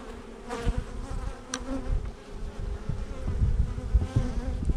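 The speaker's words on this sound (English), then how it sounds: "Bees don't seem that upset." Bees buzz around an opened hive during a new hive installation, a close, steady, humming drone with scattered louder passes and faint handling sounds.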